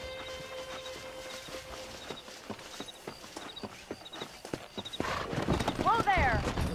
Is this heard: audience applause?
no